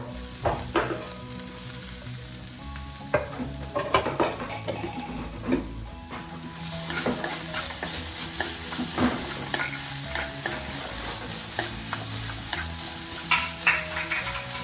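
Grated coconut with crushed cumin frying in a pan, stirred with a utensil that clinks and scrapes against the metal, and the sizzle grows steadier and louder midway through.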